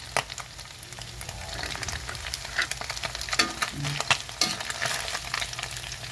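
Chicken skin frying crisp in hot oil, a constant sizzle with sharp pops and spatters scattered throughout, close and fairly quiet.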